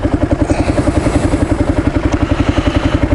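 A Kawasaki KLR single-cylinder motorcycle engine runs close by, a loud steady rhythmic thumping putter with no talk over it.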